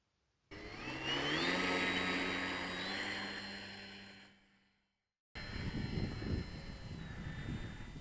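A small Cute Girl Bolsward model airplane flies overhead with a steady motor whine that rises and shifts in pitch, swells and then fades away. A louder, rougher engine drone cuts in after a short silence.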